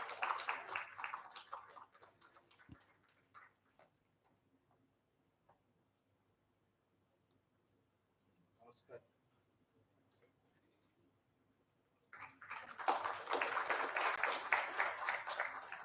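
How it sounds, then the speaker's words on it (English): At a felicitation ceremony, a voice speaks first, then a long, near-silent pause with faint ticks follows, and finally the audience bursts into loud, sustained applause. "Please give him a big round of applause."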